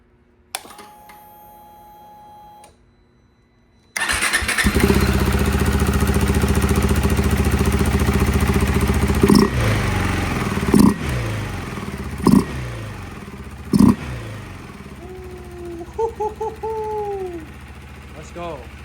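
Motorcycle engine fitted with a new K&N air filter and DNA air filter cover starts after a short mechanical whir, then idles steadily and loud close by, with several sharp throttle blips near the end.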